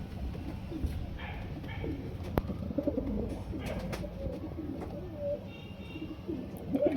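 Five paired pigeons kept for winter coo steadily in a dense, continuous low murmur from nearby birds, with scattered chirps over the top.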